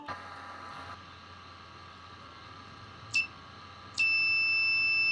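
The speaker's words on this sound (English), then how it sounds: "the buzzer will be giving a sound" A flame sensor's electronic buzzer gives a short high beep, then starts again and sounds continuously, steady and piercing over a quiet hum.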